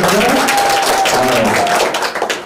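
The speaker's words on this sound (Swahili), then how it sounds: "Wapi makofi yake Saulin?" An audience at a book launch applauds loudly in a dense, steady patter of clapping, with a sustained voice-like tone carrying over the claps.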